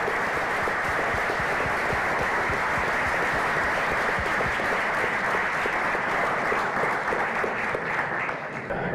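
Sustained applause from an audience at a community symposium, a steady wash of many hands clapping at moderate distance, continuous throughout without a break.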